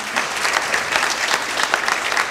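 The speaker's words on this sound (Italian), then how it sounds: "Facciamoci un applauso perché" An audience at an Italian vocational music and singing festival breaks into brief, dense clapping, a steady burst of applause heard up close with no speech over it.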